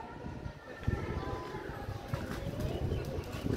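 Pigeons kept for pigeon flying cooing nearby in soft, repeated low calls, mixed with faint background noise and some human voices.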